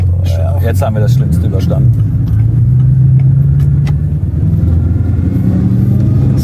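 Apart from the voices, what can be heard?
Bugatti Chiron Sport drifting and accelerating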